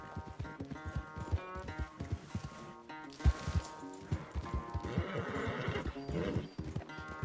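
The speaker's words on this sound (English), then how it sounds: "Where's that big, mean horse?" Horse hooves clip-clopping and a whinny in the video game Red Dead Redemption 2, rhythmic galloping beats over game music with a loud neigh near the middle.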